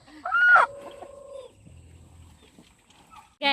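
A chicken gives a short, loud cluck and squawk up close, followed by quieter clucks and a low murmur, then another sharp squawk at the end.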